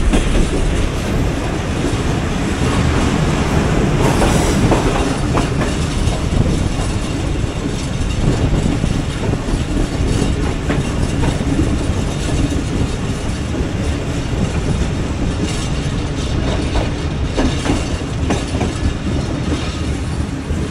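Awam Express passenger train running on rails in Pakistan, a steady loud rumble and clatter of wheels from inside the carriage, with rhythmic clicks over joints continuing throughout.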